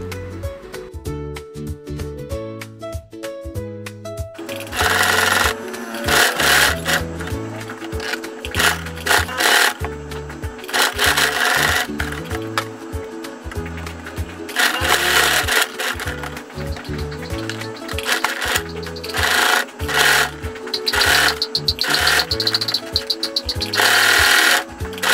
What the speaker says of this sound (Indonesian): lalu kita jahit lagi memutar.